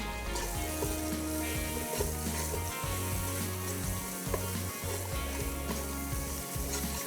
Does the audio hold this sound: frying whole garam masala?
yes